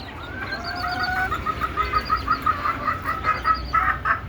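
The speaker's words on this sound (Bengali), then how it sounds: "এই যে দেখেন, আমি দেশি মুরগি পালন করতেছি আজকে দীর্ঘদিন।" Native desi chickens cluck in quick, repeated bursts that keep going over a low background rumble, nearby and moderately loud, with no talking.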